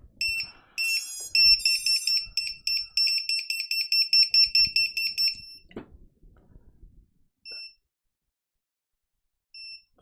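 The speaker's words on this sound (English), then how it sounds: "hopefully we have a successful buzzer." A 5-volt buzzer on a FlowTtech Supafly quadcopter sounds a fast series of sharp, loud electronic beeps, then stops; after a pause two more short single beeps follow, with faint handling noise beneath.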